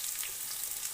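Potol (pointed gourd) added to a pan already frying potato and pumpkin, giving a steady, even sizzle with a bright hiss and soft crackle, and no voices.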